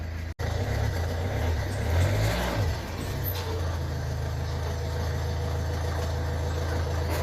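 A Toyota Yaris 1.4 D4D diesel runs with a steady, loud low engine rumble as it drives its driver's-side wheel up onto bricks, with a brief revving swell early on before it settles into an even hum.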